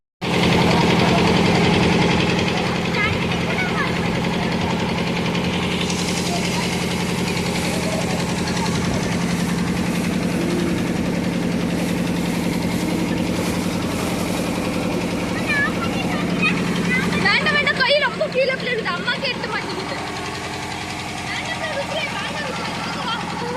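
A small single motor boat's engine runs close and loud, a continuous vibrating drone that holds steady from start to finish.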